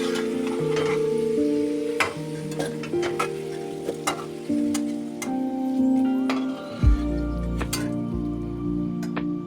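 Chicken pieces fry in hot oil with turmeric until reddish: sparse crackles and pops with a few clinking utensil tones, steady and close.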